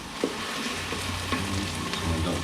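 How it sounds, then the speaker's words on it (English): Ground beef browning in an Instant Pot on sauté, a steady close sizzle with a few light scrapes and stirs, heard alone without talk. "now we're going to add the ground beef in, and we're going to saute that until it's brown"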